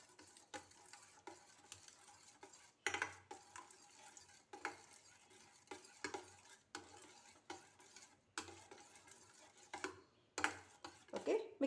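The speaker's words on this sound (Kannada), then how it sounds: "ಇದನ್ನು ಮಿಕ್ಸ್ ಮಾಡಿಕೊಳ್ಳುವ." Spoon stirring raita seasoned with chilli powder and black salt in a bowl, a series of soft rhythmic scraping strokes with occasional sharper clinks against the vessel, quiet and close.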